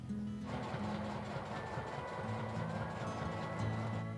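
A sewing machine stitching a dress runs steadily for several seconds, with a continuous mechanical hum and a fast, even whir.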